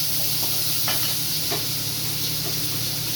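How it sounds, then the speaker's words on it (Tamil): Onions fry in a pan while cooking drumstick leaf stir-fry, giving a steady loud sizzle and hiss throughout with a few faint clinks of stirring. "வந்து வெங்காயம் போட்டுக்கலாம்"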